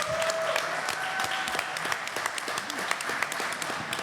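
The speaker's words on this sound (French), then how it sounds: "Hein, on peut l'applaudir." Studio audience applause at a French-language talk show celebration, a dense continuous patter of many hands clapping at a steady level, close and lively, running throughout without pause.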